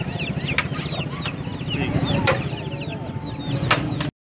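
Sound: Aseel chickens clucking at a Karachi bird market

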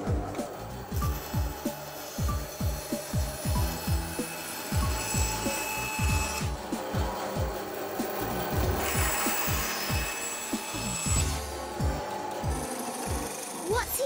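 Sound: cutting wood to size

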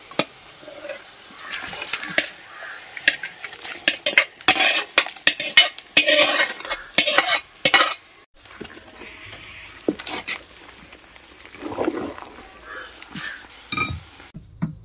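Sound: mixing jackfruit biriyani with beef bones in a pot

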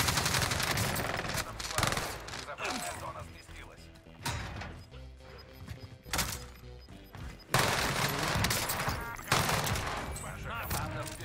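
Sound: enemy gunfire in the video game Call of Duty Warzone

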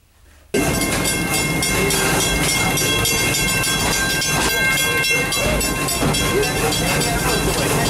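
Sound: Serengeti Express train ride at Busch Gardens

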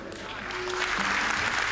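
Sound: audience applause at a pencak silat demonstration

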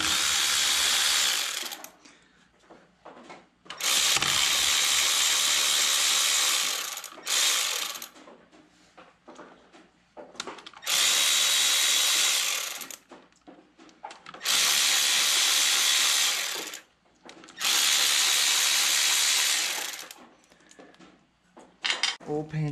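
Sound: ratchet removing 13 mm oil pan bolts, Yanmar tractor

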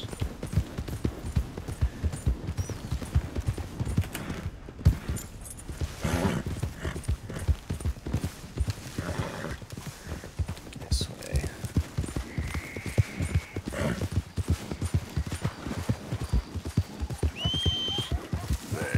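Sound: horse hooves galloping in video game

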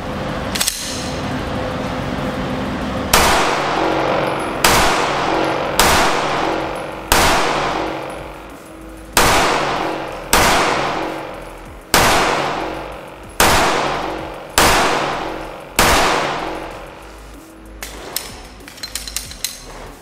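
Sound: gunshots from a PFS-9 Glock 17 clone pistol

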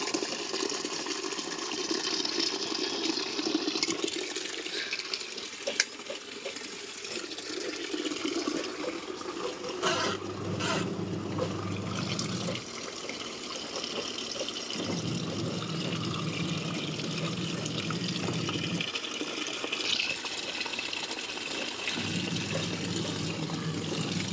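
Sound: washing machine filling with water

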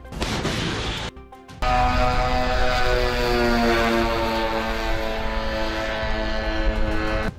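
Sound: attack drone flying after launch

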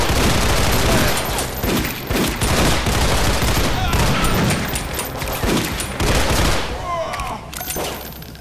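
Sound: gunfire from a video game

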